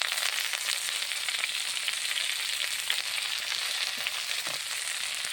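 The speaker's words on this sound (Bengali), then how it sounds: "এখন আমি কড়াইয়ে শাকগুলো দিয়ে দেবো।" Home-grown leafy greens frying in a hot wok, a steady bright sizzle throughout with soft stirring scrapes now and then, close and fairly quiet.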